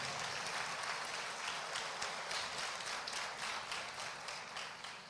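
A church congregation applauds together, a steady wash of many hands clapping, with a regular pulse suggesting rhythmic clapping, moderately loud and sustained throughout.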